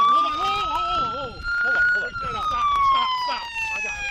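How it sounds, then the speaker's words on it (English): A police car siren wails in a long, slowly rising and falling tone, loud and close, while several people talk and shout over it. "Turn that siren off."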